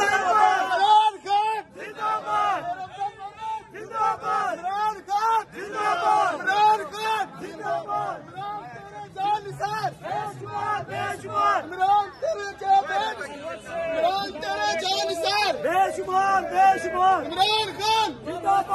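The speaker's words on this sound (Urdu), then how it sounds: "کس طرح عوام نعرے بازی کر کے ان کا استقبال کر رہے ہیں" A crowd at an iftar party chants slogans in rhythmic call-and-response to welcome Sher Afzal Marwat, with loud massed voices rising and falling over many seconds, shouts and cheers overlapping close by.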